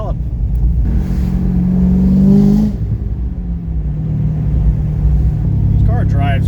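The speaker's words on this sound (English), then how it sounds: "Exhaust sounds good. It's not too loud." A C6 Corvette Z06's exhaust rumbles low, swelling as the engine revs up and then settling back to a steady drone, heard from inside the cabin.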